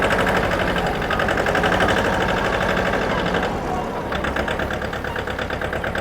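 A Mahindra tractor's diesel engine runs steadily at close range with a continuous rumbling drone, shifting slightly in tone partway through, with no talk over it.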